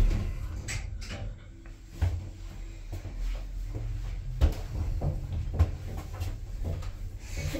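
Dual doors of a Thyssen Krupp lift in a shopping centre slide open and shut, a low mechanical rumble with soft thuds as the panels move, heard close against faint background ambience and no talk.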